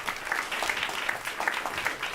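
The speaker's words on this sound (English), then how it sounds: "Round of applause, everyone." A conference audience at an event on farmland protection and regenerative practices breaks into brief applause, a bright, uneven burst of clapping from a moderately sized crowd lasting about two seconds.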